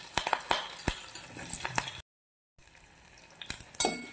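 Onions sizzling in hot oil with chilli and curry leaves, a steady frying hiss broken by several sharp clinks of a stirring spoon against the pan, with a short silent gap midway.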